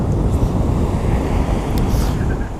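Strong wind gusting across the microphone on Great Yarmouth's South Beach in Norfolk, a steady loud roar with surf washing underneath throughout, no voices.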